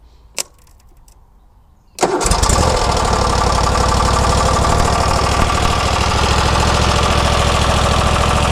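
A Husqvarna lawn tractor engine, started by jumping across the solenoid connectors, catches after a short quiet pause with a sharp click and then runs steadily and loudly close by.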